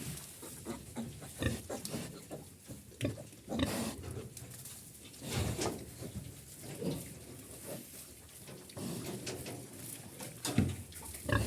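Pigs grunt and snort repeatedly at close range, irregular bursts over a soft background patter.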